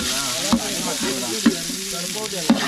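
Chopped onions sizzle steadily in a pot, reddening for a village chicken biryani. A utensil scrapes through them in periodic stirring strokes roughly once a second, close and moderately loud, with no voices.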